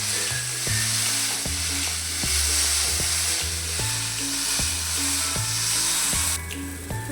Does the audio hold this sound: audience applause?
no